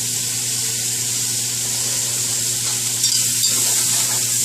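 Food fries and browns in a hot pan, a loud, close, continuous sizzle with a few light stirring scrapes near the end and no speech.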